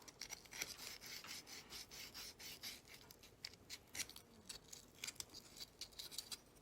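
A small piece is ground down by hand so it will fit, making a continuous series of close, quick rasping strokes in an irregular scraping rhythm, with no speech.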